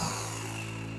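A power driver sinks exterior deck screws slowly into the wooden frame of a raised garden bed, giving a brief, even whirring whine at moderate level.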